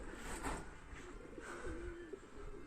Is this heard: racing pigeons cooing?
yes